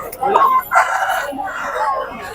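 A rooster crows in short, loud bursts at a busy village livestock market during the Sankranti season, with voices nearby in the background.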